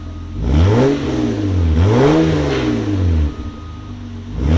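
A 1996 Toyota Land Cruiser 4.5L I6 with high-flow cats and Borla Pro XS exhaust revs hard twice, the sporty exhaust rising to a loud roar and falling back, then settling near idle.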